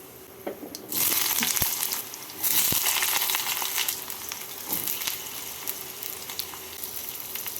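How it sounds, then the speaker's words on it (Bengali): Diced potato pieces hit hot oil tempered with dried red chilli and five-spice seeds, bursting into a loud, steady sizzle after a quieter start, with a few utensil clicks as the frying continues. "আলুগুলোকে একটু লাল করে ভেজে নেব"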